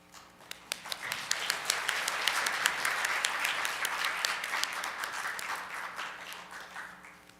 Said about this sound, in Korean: 더욱더 뜨거운 박수로 모셔보겠습니다